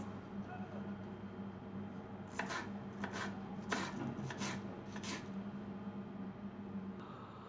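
Several quick knife taps on a cutting board, chopping onions and peppers in a short irregular burst over faint background hum.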